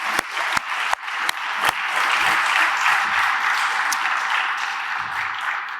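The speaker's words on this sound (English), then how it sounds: "Please join me in applauding them for their wonderful hospitality." Audience applause at the close of a panel conversation, starting with a few loud single claps that quickly swell into steady, dense clapping that holds to the end.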